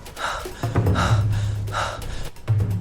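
Repeated sharp, ragged gasps of breath, loud and close, come in quick bursts of effortful inhaling with short pauses between them.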